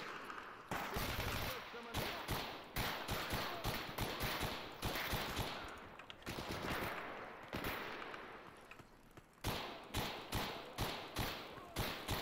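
Rapid bursts of automatic gunfire in the STALKER shooter game, sharp repeated shots in quick rhythmic volleys with brief pauses, loud and close throughout.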